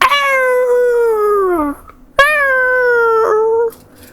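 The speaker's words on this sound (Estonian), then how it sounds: "siin ümbruses on igasuguseid loomahääli. Päris palju koera omasid" Dogs howl near a lake in Greece in two long, sustained, gliding wails separated by a short pause, loud and fairly close with no talking over them.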